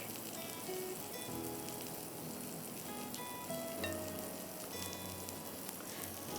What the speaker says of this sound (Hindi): मुझे तड़का लगाना है